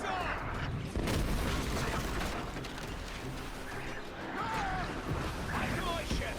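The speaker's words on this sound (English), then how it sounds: "And here come the mortars." Mortar fire in an Assassin's Creed Black Flag naval battle between sailing ships: dull booms from the cannons over sea and wind noise, with voices shouting now and then.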